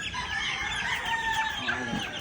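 Hens and small chicks call together close by, with steady clucking and high, overlapping peeping chirps that continue throughout at a moderate level.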